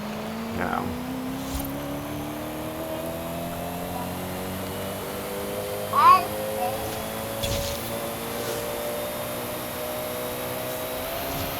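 A 2016 Koenigsegg Regera in a racing video game accelerates with a rising, smooth engine tone sweeping upward through gears, heard under someone talking throughout.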